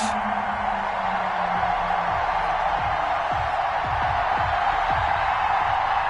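A Miami Dolphins home crowd in a football stadium, fired up before a Week 4 NFL game against the Seattle Seahawks, makes a continuous distant roar with scattered thuds and shouts.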